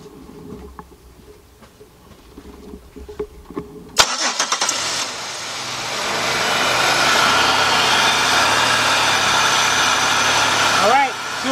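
A 2005 Chevy Impala with a 3.8 engine that stalls out when warm cranks and fires up, settling into a loud, steady close-up idle, with a brief high whine near the end.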